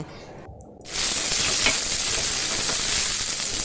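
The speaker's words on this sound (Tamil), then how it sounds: "இப்போ சாம்பாரையும் நம்ம தாளித்து விட்டுறலாங்க" A sudden loud sizzle as spices are tempered in hot oil for sambar, a steady crackling hiss that continues evenly after the initial splash.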